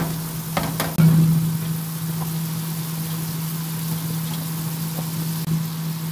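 Onions fry in a pan with soy sauce, giving a steady, close sizzle throughout with a constant low hum beneath it and a few brief clinks.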